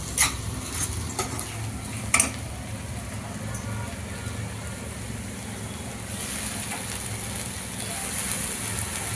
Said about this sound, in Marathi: आता ह्याच्यात मी टमाटर टाकते.